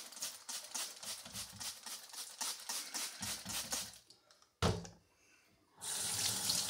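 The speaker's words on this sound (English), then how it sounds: "And rinse it off with cold water." Cold tap water splashing in a sink while a hydrometer is rinsed after star san cleaning, pattering in uneven bursts, then a brief clunk and a quiet gap before the stream returns steady and strong.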